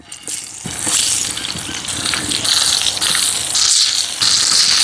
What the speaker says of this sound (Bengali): এখন বেগুনটা তাওয়ায় ভাজিলাম